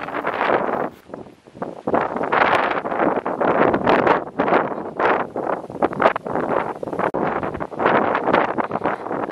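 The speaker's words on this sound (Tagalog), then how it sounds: "malapit na kami sa tabing dagat kaya malakas na yung hangin dito" Strong gusty sea wind near the coast at Cape D'Aguilar, Hong Kong, buffeting the microphone in loud rumbling, blustery bursts that rise and fall continuously.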